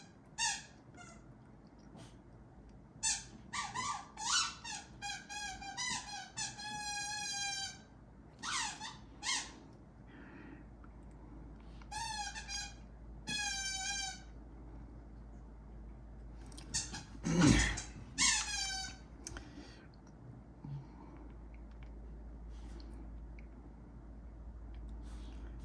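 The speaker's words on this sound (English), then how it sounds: "Oh, she found her squeaky." A dog squeezing her squeaky toy indoors, giving bursts of high, rising-and-falling squeaks in quick clusters at irregular intervals across the stretch, fairly faint against a low room hum.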